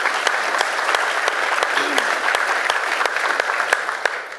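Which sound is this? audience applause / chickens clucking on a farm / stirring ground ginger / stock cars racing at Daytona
audience applause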